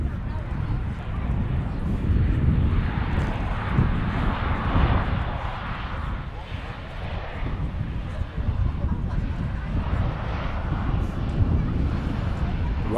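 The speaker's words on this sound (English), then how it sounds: "Ryanair for the short hop is using quite a lot of runway to slow down." A Ryanair airliner rolls down the runway after landing on a short-hop flight, its broad engine roar and rumble steady throughout with wind buffeting, heard from a distance with faint voices underneath.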